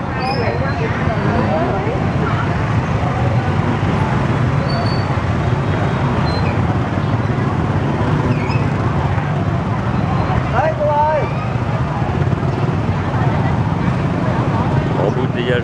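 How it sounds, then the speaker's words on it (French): A jam of small motorbikes fills a street in My Tho, Vietnam, making a continuous, loud, dense drone of engines and road noise with no break, heard from close by in the flow of traffic. "Embouteillage de petites motos"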